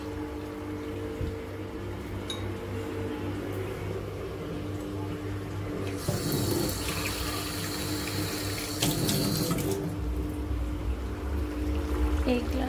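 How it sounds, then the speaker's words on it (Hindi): A glass of water goes into a cooking pan of partly fried potatoes for aloo keema, making two short, bright splashing pours over a steady kitchen hum. "एक ग्लास पानी डाल दिया मैंने इसमें।"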